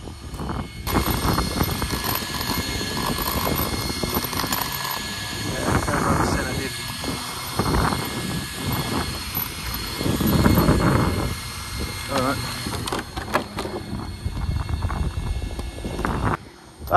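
An ARRMA Mojave EXB RC car runs rough, its high motor whine surging and dropping in uneven bursts with rattling, close to loud, while a person talks at times.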